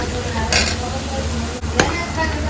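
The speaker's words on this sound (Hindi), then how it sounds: "जैसे ही लहसुन ब्राउन हुआ उसमें डाल दिया गया है अभी प्याज। प्याज को थोड़ा सा पकने देते हैं।" Garlic and onion fry in hot oil for a tadka, with a steady sizzle close by, punctuated by a few sharp scraping stirs of a spoon in the pan.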